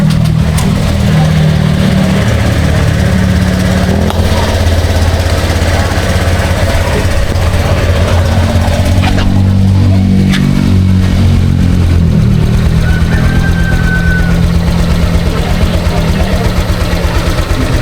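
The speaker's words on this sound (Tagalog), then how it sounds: "So ito guys, pandarin natin ang motor." A motorcycle engine with a newly fitted mushroom air filter runs steadily at a loud, close idle throughout, its low throbbing with occasional slight revving, while someone talks over it.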